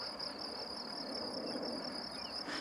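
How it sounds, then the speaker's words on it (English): Crickets chirping loudly outdoors on a spring day, a steady, shrill pulsing trill that carries on without a break, close and dominant over faint background hiss. "I hope you can hear them, but the crickets, they are so loud."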